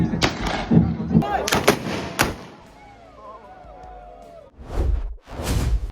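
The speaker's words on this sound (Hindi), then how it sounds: "बारूद जितने अच्छे से प्रेस होएगा गन शॉट की आवाज उतनी अच्छी आएगी।" Several sharp, loud gunshots from a gun loaded with pressed gunpowder, fired outdoors with a spark ignition. The blasts crack one after another with echoing tails, and quieter whooshing sweeps sound in a pause between them.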